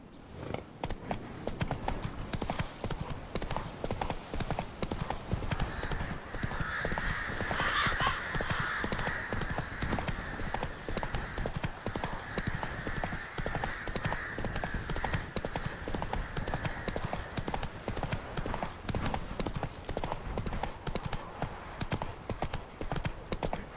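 Horse hooves clip-clop steadily at a trot while riding in The Witcher 3, a continuous rhythmic beat with a faint whinny partway through.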